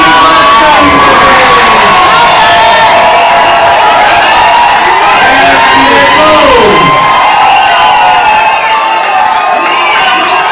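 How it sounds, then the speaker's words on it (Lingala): A wedding crowd at a religious ceremony cheers loudly and continuously, with shouts, whoops and high ululating cries layered over a dense wall of voices that stays close and sustained throughout. "Sous vos applaudissements, il va s'arriver."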